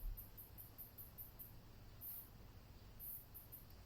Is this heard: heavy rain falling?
no